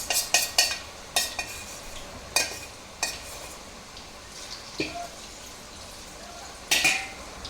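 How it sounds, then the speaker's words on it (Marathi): Spoonfuls of onion pakoda batter drop one by one into hot oil, giving soft bubbling over a faint background hiss, broken by sharp clinks and taps at irregular intervals. "आणि मग हे भजी प्रकरण छान तापलेल्या चांगल्या तेलामध्ये ते चमच्याने एक एक सोडायचं."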